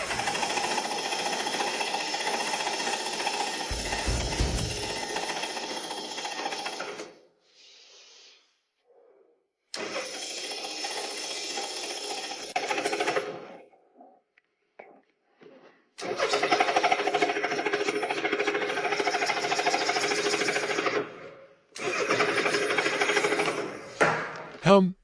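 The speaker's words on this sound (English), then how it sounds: "Fuel's flowing. Power's on. Time for a start attempt." Honda Gold Wing GL1500 motorcycle engine from a neglected, abandoned bike being cranked, with long loud rough bursts of starter and engine noise broken by short pauses, then further sputtering runs.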